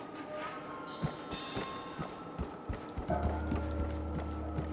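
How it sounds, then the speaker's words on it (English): Horse hooves clip-clop in the Black Myth: Wukong video game, a faint, irregular run of soft hoof taps over a low droning ambient bed. "Is that a horse?"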